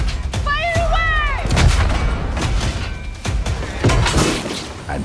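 Ship cannons fire during a naval battle in the pirate video game Skull and Bones, heavy booms and crashing impacts mixed with whistling projectiles and shouting voices, loud and dense throughout.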